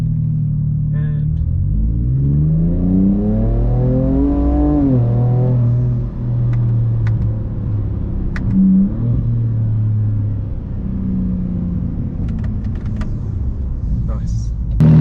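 A Ford Raptor with its factory exhaust system revs up in a long climbing sweep, then settles into a loud, deep idle rumble with a few smaller blips, close and steady throughout.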